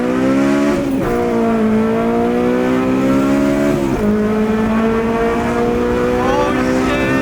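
An 8th-generation Honda Civic Si with a full race exhaust howling loud and close, its engine held at high revs with a raspy, buzzing tone, briefly dipping between gears before climbing again, continuous throughout.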